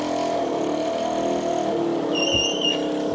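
A restored Yamaha Chappy moped, run again after decades of sitting, idles with a steady, even engine hum. It sounds close and continuous, with a little added rattle toward the end and no talking.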